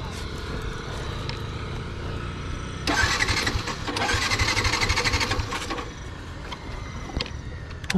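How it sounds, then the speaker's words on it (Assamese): A motorcycle's fuel-injected engine cranks repeatedly without catching, bursts of whirring starter noise rising and falling at close range over a steady background. "ষ্টাৰ্ট নহয়, আৰু এফআই ইঞ্জিন অলপমান যদি পৰি যায় ষ্টাৰ্ট নহয়"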